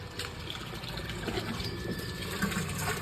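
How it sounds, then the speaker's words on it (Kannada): Water runs into a home washing machine as its pump motor fills the drum, a steady close rush and splash with no pauses. "ತುಂಬಕ್ಕೂ ಬಿಟ್ಬಿಡ್ಬೇಕು ನೀರು ಇದಕ್ಕೆ."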